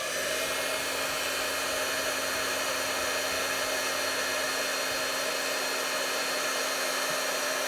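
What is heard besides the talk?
heat tool embossing a die cut card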